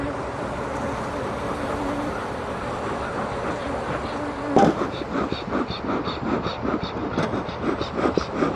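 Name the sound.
honey bees buzzing around a large hive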